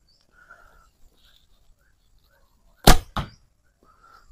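An arrow is loosed from a bow of about 40 lb draw with a sharp snap, followed a beat later by a solid thud of impact; birds chirp faintly around it.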